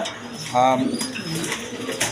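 A big female pigeon of a good breed gives one short, low coo close by, with a faint rustle and soft background noise around it.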